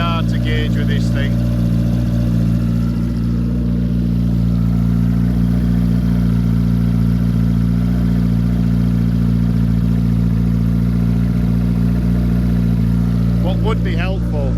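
A 1991 turbocharged Suzuki GSX-R motorcycle engine idling steadily, a loud, even low rumble that runs close and unbroken throughout.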